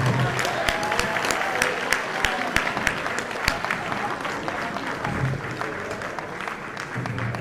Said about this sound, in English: How about another round of applause for all of our incredible band members?